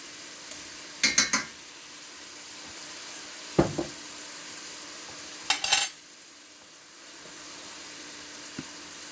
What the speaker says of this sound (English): I'm going to put a teaspoon of garlic in here.